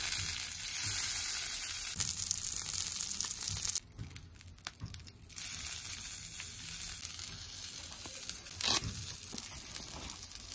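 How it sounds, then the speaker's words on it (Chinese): Skin pan-fries to a crisp on a small handmade lunchbox stove, a close crackling sizzle that briefly dies down midway and then returns steadily. "我要煎出酥皮，滋滋的声音是不是听着很疗愈？"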